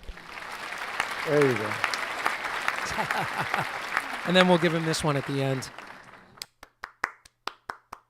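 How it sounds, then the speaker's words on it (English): Crowd applause sound effect playing on a drummer's podcast, mixed under talking voices, followed by several sharp isolated claps near the end. "He gets the full applause."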